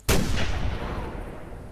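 Rifle shot at a roe buck in the hunting video game theHunter, a single sharp loud crack with a booming report that rolls off into a long fading echo.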